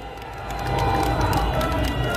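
Crowd applause and cheering at an outdoor candlelight protest rally in Seoul on a cold night, swelling from moderate to a loud, sustained roar over a low background rumble.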